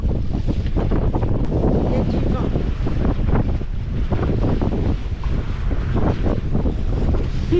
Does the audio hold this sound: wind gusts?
yes